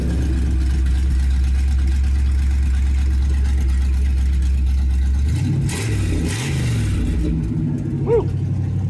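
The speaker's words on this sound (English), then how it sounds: "Also has exhaust cutouts." A 1954 Chevrolet 3100 pickup with a 350 V8 and open exhaust cutouts rumbles at a deep, loud idle, then revs up and down in several sharp swells close by.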